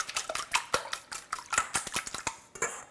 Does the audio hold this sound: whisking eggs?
yes